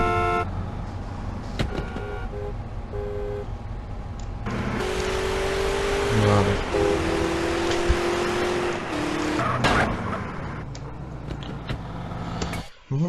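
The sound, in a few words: car engines in video game GTA San Andreas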